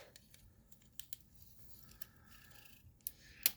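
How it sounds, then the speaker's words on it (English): Scotch tape pulled off the roll for a punch art lamb card gives faint crackly rips and small ticks in a quiet room, ending with a sharper snap. "I'm going to use Scotch tape"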